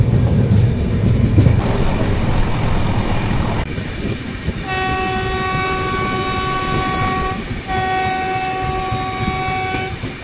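A passenger train running from Vizag to Araku Valley with a Vistadome glass coach rumbles steadily throughout, and a loud, sustained horn blasts twice in the second half over the continuous rolling clatter.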